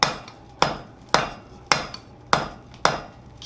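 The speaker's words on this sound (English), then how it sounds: "So, first step in this operation, we're going to take and drive down a fairly short point." Saw face hammer forging a short point on hot metal for an acanthus leaf, striking the anvil in six sharp, evenly spaced blows about half a second apart, close and alone.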